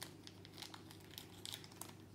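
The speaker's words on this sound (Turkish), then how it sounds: "Şimdi poşetimi açtım." Crinkly plastic packet of a Lost Kitties Series 2 toy being torn and opened, a steady close crackle and crumple with sharper bursts throughout, no talking.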